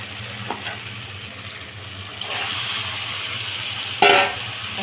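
Chopped tomatoes hitting hot oil and spiced masala in a pan for a chicken curry, a steady close sizzle that swells louder midway, with a sharp burst of frying as more goes in near the end.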